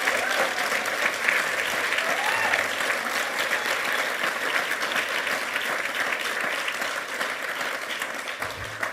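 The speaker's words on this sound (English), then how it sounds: "Please, let's give them an enormous round of applause" A ballroom audience at the 2025 Victoria Australian of the Year Awards gives the nominees a long, loud, sustained round of applause, dense and even throughout.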